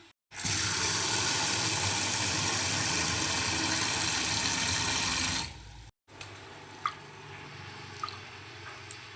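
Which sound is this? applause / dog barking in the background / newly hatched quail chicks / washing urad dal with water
washing urad dal with water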